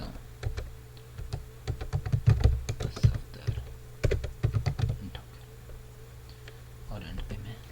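Keyboard keys clack in irregular bursts as code is typed on a computer keyboard for a C language programming lesson, close and fairly loud with a short pause midway, while someone talks quietly underneath.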